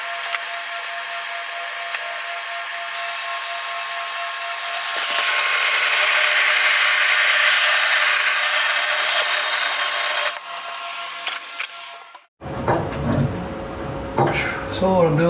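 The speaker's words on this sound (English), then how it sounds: "I'm kind of trimming it down right here on the saw" A saw trims a metal tube to fit engine bars on a second-generation Camaro: a loud, steady high-pitched cutting whine for about ten seconds, then it cuts out, followed by handling noises and a brief voice.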